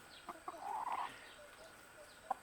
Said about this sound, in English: these barred rocks, they're easygoing chicken